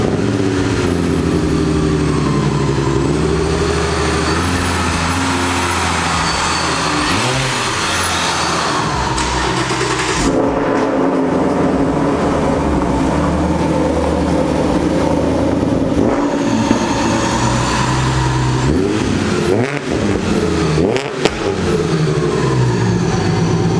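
Ford Mustang engine running steadily and loud throughout, with a deep idle rumble and small shifts in pitch as the car is pulled out.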